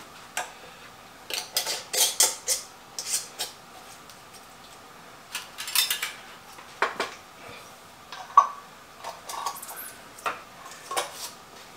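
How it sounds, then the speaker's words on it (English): Small metal lids clink and tick against glass jars of freshly made calamondin orange marmalade, a scattered run of light, close, irregular taps and rattles with brief pauses between them. "Let's go ahead and put some lids on them"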